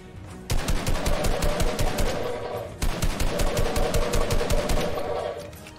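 Two long bursts of rapid automatic gunfire come from a Fortnite match, loud, close and evenly spaced, with a brief pause between the bursts.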